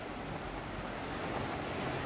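A steady, full rush of flowing water from a river near Zell am See in Salzburg, Austria, heard as continuous broadband noise with light wind buffeting, no voices.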